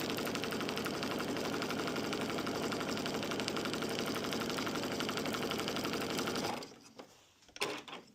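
A sewing machine stitches steadily around the edge of a piece of fabric, its close, loud, even whirr running for several seconds before it stops and leaves a few small clicks.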